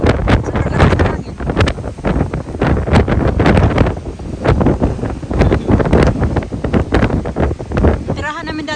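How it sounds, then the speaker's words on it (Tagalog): Strong wind buffets the microphone at a British seaside at high tide, making loud, continuous gusty roaring and crackling with no letup. A voice is heard briefly near the end. "Sobrang lakas ng hangin"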